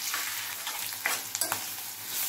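Tempering spices and turmeric frying in hot oil, a continuous crackling sizzle with a few sharper pops and spoon scrapes, close and moderately loud.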